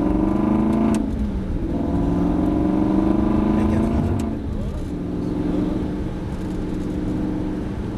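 Aston Martin V8 Vantage accelerating on a track in third gear, a loud, sustained engine drone that climbs in pitch, dips briefly with a gear change, then builds again, with talk over it.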